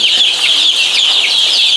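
A flock of native country chickens on a poultry farm clucks and squawks in a loud, dense, continuous chorus of overlapping calls, close by and without talking.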